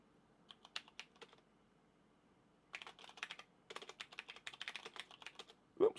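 Soft, quiet clicks of typing on a computer keyboard while using an interactive shell, a few scattered taps followed by a pause and then a denser run of rapid keystrokes.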